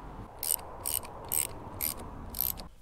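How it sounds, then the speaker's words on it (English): A socket ratchet tightens the fork cap on a Kawasaki KLR650 in five short, bright bursts of rapid clicking with brief pauses between them, close up over faint background hum. "Let's get my socket, and then I can fit it over here and do it up like that."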